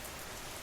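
Steady rain falls on a surface as a dense, even patter at a campsite in a cedar thicket, soft and continuous with no talk.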